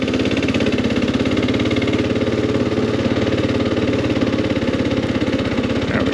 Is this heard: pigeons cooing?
no